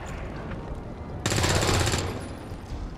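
Gunfire from the XCOM 2 War of the Chosen video game rings out as a single sharp, loud burst lasting under a second, set against quieter game background noise.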